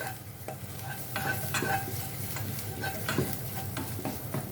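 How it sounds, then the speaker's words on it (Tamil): Chili powder sautéing in hot oil in a pan while being stirred continuously, a steady close sizzle with scraping utensil strokes throughout. "மிளகாத்தூள்லாம் போட்டு ஒரு 1 நிமிஷம் மட்டும் வதக்கிட்டு"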